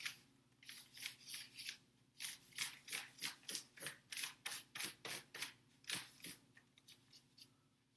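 A pen is drawn across paper in quick repeated strokes, about twenty short scratchy bursts in a steady rhythm, close and quiet, over a faint low hum.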